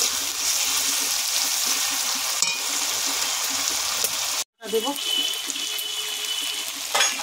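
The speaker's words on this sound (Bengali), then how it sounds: "একটু ভাজা ভাজা করে নিই।" Onion, ginger and garlic paste fries in a pan for a Bengali fish curry, giving a steady close hiss of sizzling that briefly cuts out midway, while a voice speaks over it.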